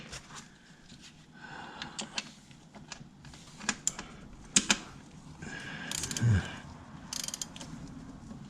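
An oil drain plug on an Audi is turned slowly by hand, giving a series of small metallic clicks, scrapes and ratcheting ticks, irregular and close, with a brief louder rasp near the end and no talking.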